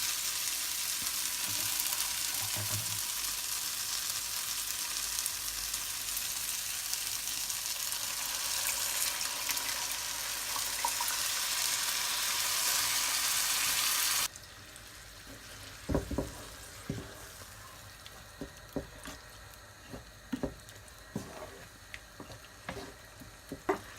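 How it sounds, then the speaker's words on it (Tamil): Tomatoes sauté in a pan for a spicy fish curry, a loud, steady sizzle that suddenly drops to a quieter simmer with scattered clinks and scrapes of stirring. "தக்காளி நல்லா வதங்கட்டும்."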